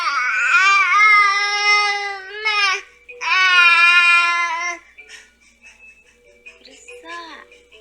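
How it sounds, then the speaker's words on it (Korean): A four-to-five-month-old infant babbles in long, sing-song vocal runs with rising and falling pitch, two sustained stretches followed by softer, scattered coos and little sounds, close and clear. "애기 옹알이 소리 들어보시기 바랍니다"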